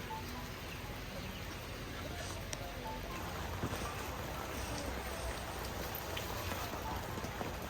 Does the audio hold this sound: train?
no